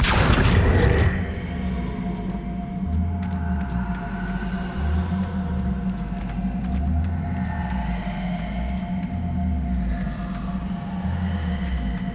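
An explosive Confringo spell cast in Hogwarts Legacy bursts with one loud, booming blast at the very start, then fades into a low, steady rumble and hum.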